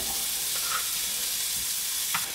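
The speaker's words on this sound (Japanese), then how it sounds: "ベーコンを焼いてみたいと思います。" Bacon fries in a pan with a continuous close sizzle and crackle, a few brighter pops standing out, and no talk over it.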